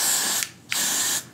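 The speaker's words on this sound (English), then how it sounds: "take the Got to Be Glued spray and I just" Got to Be Glued spray is applied to a wig hairline in two bursts of about half a second each. Each is a close, hissing spray with a short pause between.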